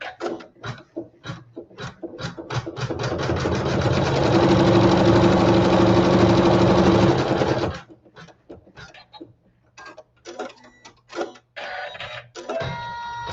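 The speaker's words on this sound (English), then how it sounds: "we're gonna lay our lattice fabric right side down, and I'm gonna keep that neutral thread in there, and we'll sew the seam." A sewing machine stitches a seam in lattice fabric: scattered short stitch bursts, then a steady loud run of rapid stitching for about four seconds, followed by more brief clicks and bursts.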